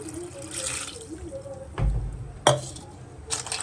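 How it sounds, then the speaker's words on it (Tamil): Water is poured into a pot for a spicy crab soup in a home kitchen, a soft running splash with a few clinks and knocks of the metal vessel against the pot, heard close and alone. "இந்த சூப்புக்கு நல்லா ஒரு சொம்பு தண்ணி சேர்த்துக்கலாம்."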